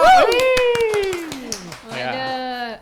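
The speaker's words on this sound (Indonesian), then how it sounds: "Kasih tepuk tangan dong." Hosts and a studio audience clap for a guest on an Indonesian talk show, a brisk run of sharp hand claps under a loud, continuous talking voice.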